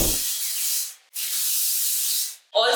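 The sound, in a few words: hair shine spray being sprayed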